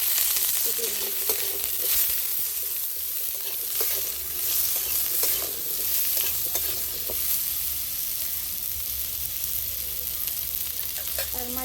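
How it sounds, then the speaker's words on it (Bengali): Cut potato pieces sizzle and fry steadily in a very hot kadai for a spicy crab curry, a dense continuous hiss with occasional stirring clinks, close and fairly loud with no talking. "কড়াইটা প্রচুর গরম হয়ে গেছে অলরেডি, আমি দিয়ে দিচ্ছি আলুগুলোকে"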